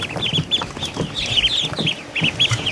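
Newly hatched ducklings in a hatching pen give high, repeated peeps in quick bursts, close and clear, with soft shuffling and tapping underneath.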